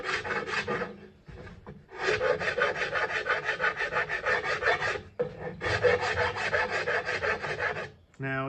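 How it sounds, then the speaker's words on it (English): A wood rasp files the rim of a wooden bowl held still on a lathe, producing close, rhythmic rough scraping strokes in two long runs with a short break between them. "with the nice flat surface that you have on the rasp, I can see where it's hitting high spots here and skipping over the low spots"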